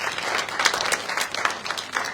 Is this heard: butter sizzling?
no